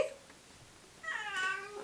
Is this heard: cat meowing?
yes